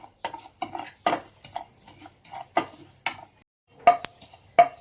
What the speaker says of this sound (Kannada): ಜೀರಿಗೆ ಅದು ಕಾಲು ಕಪ್ಪಷ್ಟು ತೊಗೊಂಡಿದ್ದೀನಿ ಅದನ್ನು ಡ್ರೈ ರೋಸ್ಟ್ ಮಾಡ್ಕೊಳ್ಳೋಣ